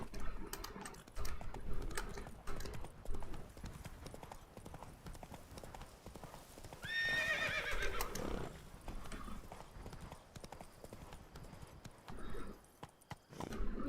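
Horse galloping and neighing in The Witcher 3 Blood and Wine, with steady rapid hoofbeats throughout and a clear whinny in the middle, over game ambience with someone talking.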